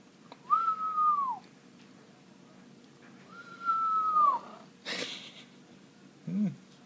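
Two clear falling whistled notes a few seconds apart, fairly close, followed by a short puff of noise and a small squeak.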